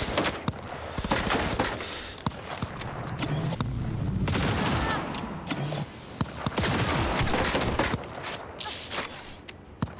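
Rapid bursts of gunfire in the Cyberpunk 2077 video game, fired at boxes, crackle loudly across the clip in dense, overlapping volleys with a few brief lulls.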